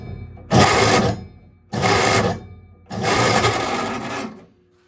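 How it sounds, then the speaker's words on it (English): Rebuilt starter motor on a vintage 1960s Coot ATV cranking weakly off a big battery, in three separate loud whirring bursts of about one to one and a half seconds each, with short pauses between. "I think the starter that we rebuilt in the beginning of the video is giving up"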